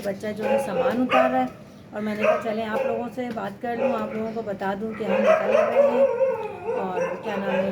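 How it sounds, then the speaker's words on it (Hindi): Dogs barking and howling outside, several yelps and drawn-out howls in bursts, heard under someone talking close by. "वो बाहर कुत्तों की आवाज़ बहुत आ रही है"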